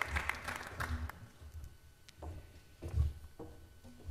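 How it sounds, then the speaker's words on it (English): Audience applause at a poverty-pathways summit, a faint, scattered clapping from a crowd in a hall, fading in and out over a few seconds. "let's give our Secretary of HUD, Sean Donovan, a round of applause"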